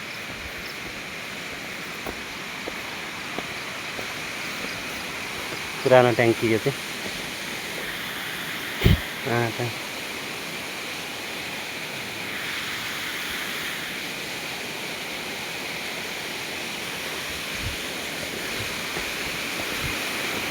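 Water streams steadily at a mountain spring beside an old tank, a constant broadband rush filling the background while someone speaks briefly nearby.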